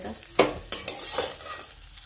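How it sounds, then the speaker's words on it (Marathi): Sliced bitter gourd is stir-fried in oil in a kadhai, giving a soft sizzle broken by a few sharp scrapes and clinks of the spatula against the pan, close and alone. "कारले चांगले परतले, हे असे डाग पडूस तर आपल्याला परतून घ्यायचे तेल टाकून"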